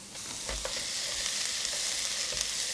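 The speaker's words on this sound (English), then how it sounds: "now that we got a little bit of those peppers cooked down a little bit more" Peppers sizzle steadily in a hot pan as they cook down for crawfish bread, a continuous close frying hiss with faint stirring and no voices.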